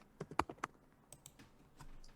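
A computer keyboard tapped in a quick burst of several keystrokes, then a few sparser clicks, quiet and close in a still room with no talk.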